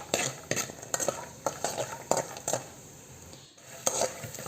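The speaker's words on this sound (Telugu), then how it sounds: "తర్వాత పల్లీలు వేసుకునేసి బాగా ఫ్రై చేసేసుకున్నానండి" Peanuts fry in oil with mustard seeds in a kadai while a spoon stirs them, scraping and clinking against the pan in irregular strokes over a faint sizzle, close and fairly quiet.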